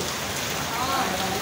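Rain falls steadily outdoors on a rural property during a downpour, an even, close patter with no break over the short stretch.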